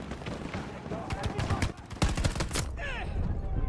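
An assault rifle fires on full auto in the video game Battlefield 2042, with rapid bursts of gunfire building into a dense stretch of shots amid other battlefield noise, plus a voice briefly talking.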